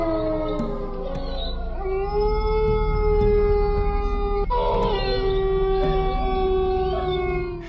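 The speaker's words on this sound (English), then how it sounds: "her presence had an unsettling effect on the local dogs, causing them to howl in response" Dogs howl together in long, wavering, overlapping tones that rise and sustain for several seconds, loud and close, with no talking.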